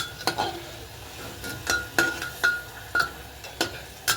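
Spices sautéing in a pan are stirred with a utensil, giving a rhythmic series of sharp scrapes and metallic clinks every half second or so over a low, faint sizzle.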